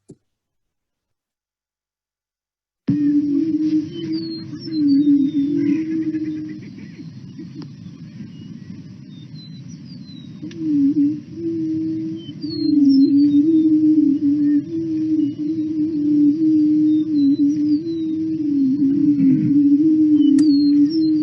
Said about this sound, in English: be careful if you're looking for prairie chickens during lekking season that you're really focusing to hear that booming sound